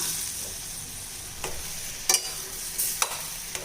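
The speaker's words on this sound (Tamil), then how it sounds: "உருளைக்கிழங்கு சேர்த்துட்டு நல்லா கலந்து விட்டுக்கலாம்" Baby potatoes being stirred into a bubbling roasted-ground masala, a soft steady simmer broken by a few sharp scraping spoon strokes, moderately quiet and close with no talking.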